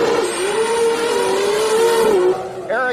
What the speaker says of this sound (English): Terrific side-by-side racing.